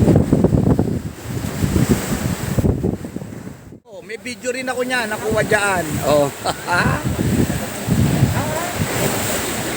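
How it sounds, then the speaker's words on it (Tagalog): Strong ocean waves breaking on a beach resort shore during a typhoon, a loud continuous roar of surf and wind buffeting the microphone, with a person talking over it in the middle. "Lakas ng alon, sobra."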